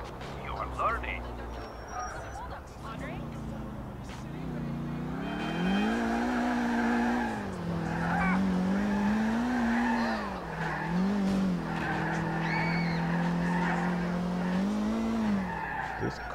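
A car in Grand Theft Auto IV drives hard with prolonged tire squeal and skidding, the engine pitch rising and falling across several slides, while a person talks over it.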